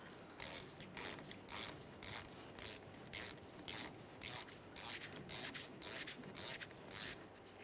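An 11mm wrench works loose a brake hose banjo bolt at the caliper of a 1999–2006 Chevrolet Silverado 1500, a quiet, rhythmic series of about fifteen short rasping, ratchet-like strokes at an even pace.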